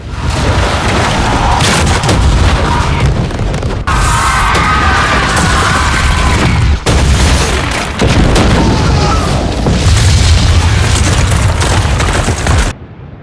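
Massive explosions as Cersei blows up King's Landing in Game of Thrones: continuous loud booming and rumbling destruction with crashing bursts, broken by a few brief cuts.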